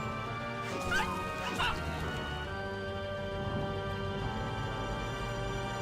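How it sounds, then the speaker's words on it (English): A pet dog's Super Bark attack in World of Warcraft Dragonflight gives a couple of short, sharp game-sound barks over a steady hum of background music. "Barks with incredible power, dealing 133 beast damage."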